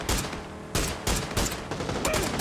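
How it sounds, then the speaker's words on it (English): Gunshots in PUBG during a pro scrim: loud, dense bursts of rapid fire in a sustained fusillade, with several sharp onsets cutting through the barrage and no talk. "Firing a couple shots."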